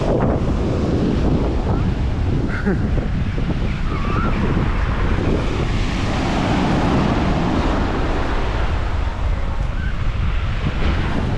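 Strong coastal wind at Petra tou Romiou, Cyprus, buffets the microphone in a constant loud roar, with a rushing, surf-like wash underneath throughout.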